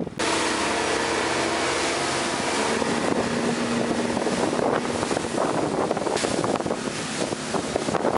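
Wind buffets a boat out at sea, a loud continuous rush against the microphone with an engine hum beneath and no talking.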